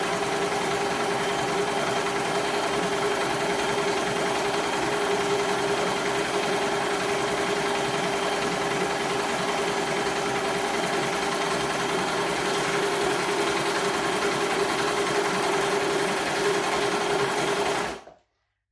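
A Baby Lock Desire3 combination machine stitches along a fabric edge, running in a steady, even whir at close range for about eighteen seconds before stopping abruptly, with no talking.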